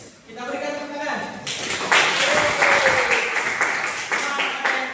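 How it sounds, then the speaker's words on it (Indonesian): Classmates applaud as group 4 gets up to perform, a voice speaking briefly at first before loud, close clapping breaks out and continues to the end. "Kita berikan tepuk tangan"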